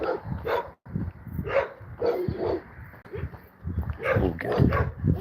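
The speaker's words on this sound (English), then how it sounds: "Not that dog you can hear there." A dog barks and yips outdoors in a few short bursts, fairly close, mixed with people talking nearby.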